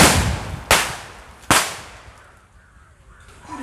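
Two sharp, loud bangs about a second apart as firecrackers explode inside a plastic 7 Up bottle, each burst ringing briefly before fading into quiet outdoor air.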